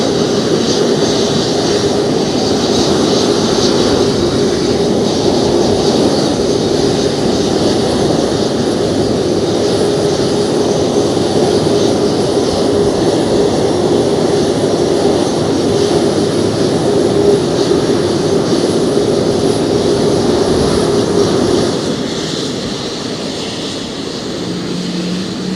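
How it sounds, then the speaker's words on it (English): Early Boeing 737, an old jet airliner taxiing at an airport, gives a loud, steady engine roar with a high whine that carries on for over twenty seconds before easing slightly near the end; no one speaks. "That's a proper old school jet, that is."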